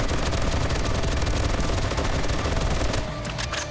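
Rapid, dense gunfire in 7 Days to Die, a loud continuous fusillade of overlapping shots that eases slightly near the end.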